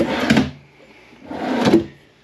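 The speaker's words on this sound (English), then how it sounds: "Nice drawer down below." Two drawer movements in a 2023 Crossroads Zinger 340RE travel trailer, each a soft sliding rumble with a faint click, close by, with a short quiet pause between them.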